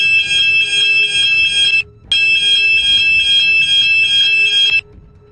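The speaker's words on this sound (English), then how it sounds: "Now she's pressing alarm." An elevator emergency alarm being pressed, a loud piercing electronic ringing tone that sounds steadily, cuts out briefly, then rings again for several seconds before stopping, with no talking.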